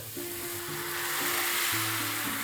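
Tomato puree sizzles and spits in a hot pan while being stirred for an egg masala, a steady loud frying hiss with faint scraping of the spoon underneath.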